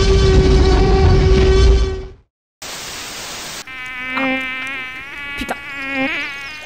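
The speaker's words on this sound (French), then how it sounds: "J'ai encore fait piquer par un moustique." A mosquito whines close by in a steady, high buzz that cuts out briefly, then returns with a wavering pitch that rises and dips.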